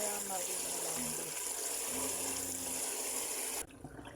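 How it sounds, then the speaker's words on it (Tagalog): Tap water runs steadily into a sink to soak food in water before cooking, a continuous gushing stream heard up close for several seconds before it cuts off near the end. "ibabad muna natin siya sa tubig"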